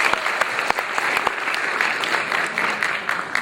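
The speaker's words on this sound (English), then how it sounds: "Give them a big round of applause." A crowd applauds steadily for an improv troupe at a live stage show, a dense patter of clapping hands with no pause, fairly close and loud.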